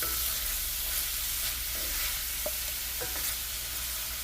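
Seasoned corn fries in vegetable oil in a skillet for corn chowder, a steady, close, broadband crackle and hiss with a couple of faint knocks from the utensil and no speech.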